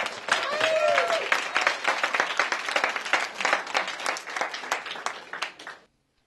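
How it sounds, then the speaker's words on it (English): Audience at a high school poetry slam clapping loudly, individual claps distinct, with a brief whistle early on; the applause thins out and stops abruptly near the end. "Give it a big round of applause."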